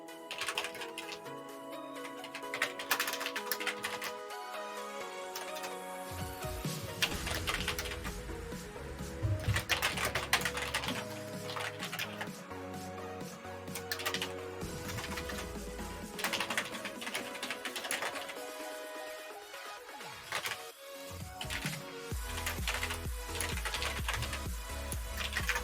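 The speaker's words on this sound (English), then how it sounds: "sorry about the keyboard sounds" Fast clicking and clattering of computer keyboard keys, close and fairly soft, running in quick bursts under steady background music.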